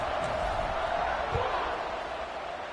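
A football stadium crowd at an Iowa game against an FCS opponent roars continuously and loudly just before kickoff, a dense wash of cheering that never drops out.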